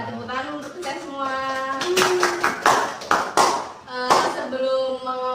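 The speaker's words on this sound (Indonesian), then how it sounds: "Ya, tepuk tangan untuk kita semua." A school class claps hands together in bursts of sharp, close claps mixed with children's voices, the clapping strongest in the middle and again near the end.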